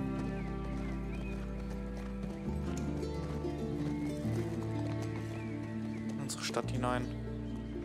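Horse hooves clop steadily while riding in The Last of Us Part 2, a close, rhythmic gait running beneath music and someone talking throughout, with a brief whinny-like burst near the end.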